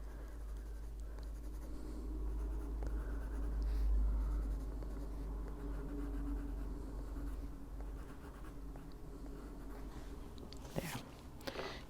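Colored pencil shading in a Korean colouring book, a steady close scratchy scrubbing of pencil on paper lasting many seconds, with a few sharper taps near the end and no talking.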